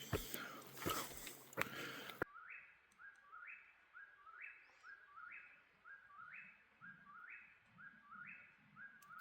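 A bird sings a repeated two-note phrase over and over near an Appalachian Trail shelter, steady and fairly close, after a brief burst of louder noise at the start.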